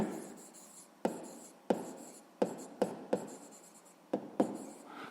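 A pen scratches across paper in a series of quick, sharp strokes, about eight separate marks close to the listener, the kind made when writing out a math answer by hand.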